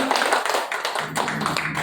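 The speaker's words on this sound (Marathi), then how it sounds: "तर टाळ्या वाजवा आईसाठी." A small group of people claps for an elderly woman at an indoor gathering, a short burst of quick, overlapping, close-up applause with no pause.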